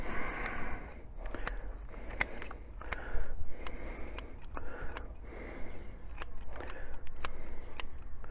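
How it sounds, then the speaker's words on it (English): Sharp scissor snips trimming upward-sticking branches from a Himalayan cedar bonsai grown from nursery stock, a steady series of close, crisp clicks spaced irregularly over a quiet background. "I'm going to snip off all these bits that are sort of sticking up in the air in an unwanted fashion"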